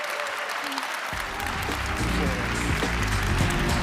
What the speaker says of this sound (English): let's give Dr. Alexander another round of applause, please